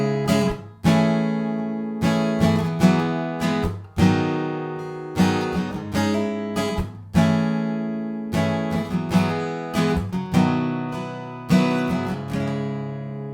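Acoustic guitar plays a song's chord progression with hammer-on embellishments, steady rhythmic strums ringing out one after another, close and clear with no voice.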